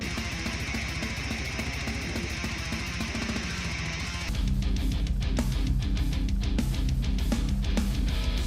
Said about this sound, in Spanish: hay técnicas específicas que suelen ser una constante dentro del género, como el palm mute de la guitarra y el tremolo picking